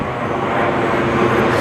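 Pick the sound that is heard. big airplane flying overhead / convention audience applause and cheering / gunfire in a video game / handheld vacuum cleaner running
big airplane flying overhead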